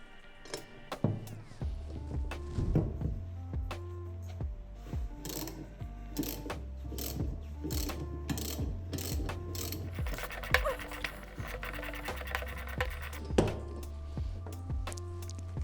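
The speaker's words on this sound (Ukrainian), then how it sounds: "Беремо головку на 13 і відкручуємо маховика." Socket wrench with a 13 mm socket unscrewing the flywheel nut of a Vitals Master BKZ 5634j 18-inch bicycle motor: repeated close ratchet clicks in bursts, mixed with metallic knocks and handling clatter.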